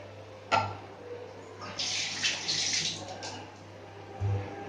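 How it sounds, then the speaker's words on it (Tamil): Water splashes and pours steadily into a pot of tamarind-based eggplant kara kuzhambu for a couple of seconds, with a low hum and a soft clunk before and after. "இன்னும் ஒரு டம்ளர் தண்ணி ஆட் பண்ணிக்கலாம்"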